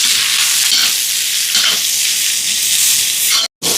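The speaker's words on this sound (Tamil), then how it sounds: "இப்போ இதெல்லாம் நல்லா வதங்கட்டும்." Onions, dried chillies and curry leaves sauté in a pan with a steady, loud sizzle and the scrape of stirring, broken by a brief silence near the end.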